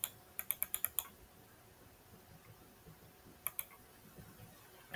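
Date being typed on a computer keyboard: a quick run of about six crisp key clicks, a pause, then two more taps, close and fairly quiet against a faint room hiss.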